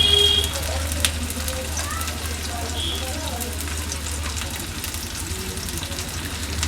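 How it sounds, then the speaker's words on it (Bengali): Chopped onions sizzling and frying in melted ghee for a Bengali mutton liver dish, a steady close crackle with stirring, while a person talks over it. "আমরা পেঁয়াজগুলোকে নেড়েচেড়ে ভাজতে থাকব।"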